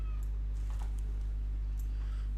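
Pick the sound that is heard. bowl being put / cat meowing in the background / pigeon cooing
cat meowing in the background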